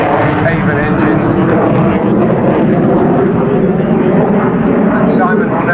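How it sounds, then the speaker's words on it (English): A jet aircraft powered by two Avon engines roars past at an air display, a loud, steady, broad engine noise that fills the whole stretch while a commentator's voice carries on underneath. "I won't try and talk over those two Avon engines."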